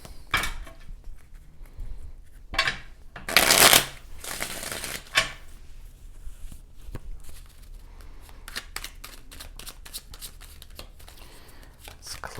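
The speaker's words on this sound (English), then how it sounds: "When I was pre-shuffling your cards" Tarot cards being shuffled in several quick riffling bursts, crisp and close, followed by lighter intermittent flicks and taps.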